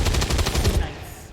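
Video game gunfire: a rapid automatic burst of evenly spaced, loud shots for about a second, which then cuts off into a short fading tail.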